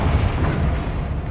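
Bombarda blasting spell cast in Hogwarts Legacy, a single deep booming explosion with a rumbling low tail that decays over about a second, loud and close.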